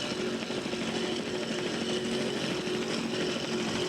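A powerboat engine at full throttle during a regatta, a loud drone running hard at high revs, a steady roar with a slight waver, fairly close and constant throughout.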